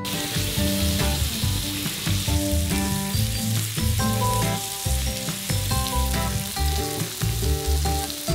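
A vegan steak and a beef steak fry in a pan, giving a loud, continuous sizzle alongside steady background music.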